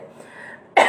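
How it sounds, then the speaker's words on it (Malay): A single short cough bursts out sharply and close at the very end, after a quiet stretch of faint room tone. "awak ni belum pergi Mekah dah batuk ni"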